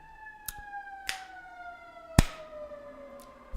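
An ambulance siren wails outside on a Baltimore street, its tone gliding steadily downward while a few sharp clicks and knocks cut through at irregular moments.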